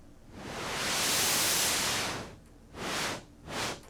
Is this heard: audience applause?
no